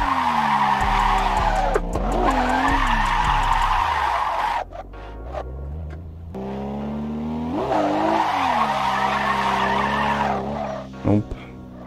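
Car tires screeching as a beginner drifts, long loud squeals rising and falling with engine revving, two main slides separated by a short lull, heard close alongside a voice talking.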